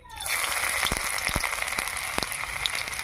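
Chopped garlic hits a hot wok at the start of a chicken Manchurian, setting off a steady, close, hissing sizzle with scattered pops and crackles that carries on throughout without talk.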